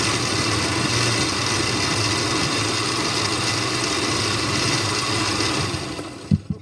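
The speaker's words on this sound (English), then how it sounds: "I usually put it in the blender." A kitchen blender whirs steadily as it purées tomatoes for a Greek bolognese, a dense, even motor roar that runs close and loud before cutting off with a couple of clunks at the end.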